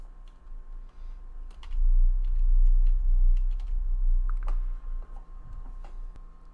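Someone types a computer name on a keyboard while setting up a DHCP reservation on a wireless router: quick, uneven bursts of close, crisp key clicks over a low steady hum.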